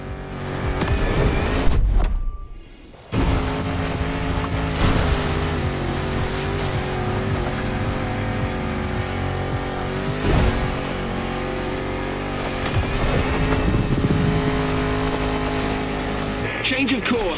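A Land Rover Defender with 400 horsepower in The Crew Motorfest drives off-road, its engine roaring continuously and loudly, with a brief dip near the start before revving back up.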